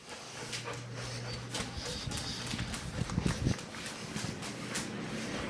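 A dog named Blue runs through a house on an exit command, paws clattering and breath panting close by over steady room noise, with a short burst of louder scrambling near the end.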